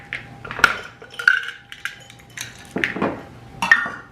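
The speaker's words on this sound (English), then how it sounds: "Now I'm going to mix it all up." Spoon stirring mashed banana, quick-cooking oats and chocolate chips in a bowl, a series of irregular clinks and scrapes against the dish, close and moderately loud, with no talking.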